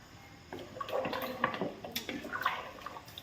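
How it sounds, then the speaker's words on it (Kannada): Water poured into a cooking pot during ghee rice and sambar preparation, a brief splashing, gurgling pour of about three seconds, close but fairly soft. "ಸ್ವಲ್ಪ ನೀರು ಹಾಕುವ."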